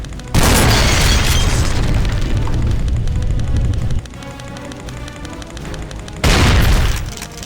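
Grenade blasts in Brutal Wolfenstein erupt as loud, deep booms that rumble on for several seconds, then a second heavy explosion bursts near the end, both close and dominating the scene.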